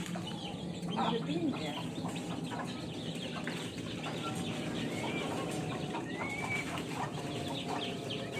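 Chickens cluck and chatter in a busy farmyard, several birds calling at once over a constant background hum.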